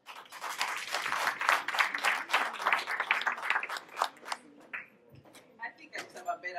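A dense, loud round of audience clapping at an event about African women in Europe, steady for about four seconds before thinning into scattered, sparser claps with a few voices.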